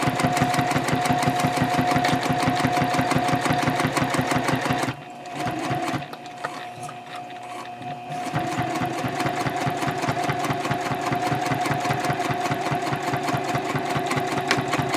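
A sewing machine set to a 3.0 stitch length runs across the fabric of a project bag with a steady, fast mechanical chatter, pauses briefly, then resumes at the same even pace.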